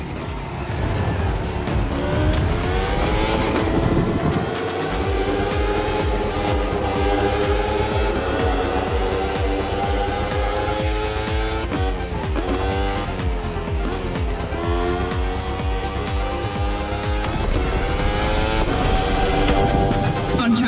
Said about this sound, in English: This evening, the KTM RC16 takes on the Ferrari 488 GT3.